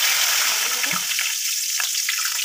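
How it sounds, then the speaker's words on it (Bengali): Bay leaves dropped into a little hot oil in the same karahi used to fry potatoes, giving a steady close sizzle with a brief stir or crackle near the middle and no talk. "আর এখন দিয়ে দেবো তেজপাতা"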